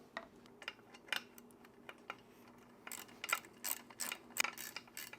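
Bolts being tightened on a Mercury outboard lower unit, with faint, close metallic clicks and ratcheting ticks in irregular clusters against a quiet background.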